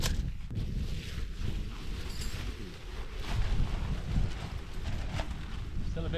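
Strong, gusty wind on an open Lake District fell buffets the microphone, a continuous low roar that swells and eases, with a tent being put up nearby.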